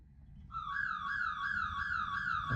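A car alarm starts after a short quiet stretch and wails with a steady, rising-and-falling warble. It is fairly loud and continuous over a low background rumble.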